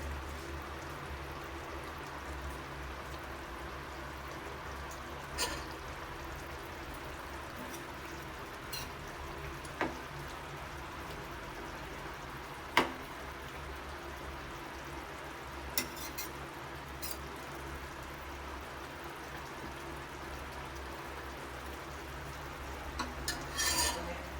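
Beef curry boils in a pot with a faint, steady bubbling and simmer. Occasional soft clicks and utensil taps rise above it, and no one talks.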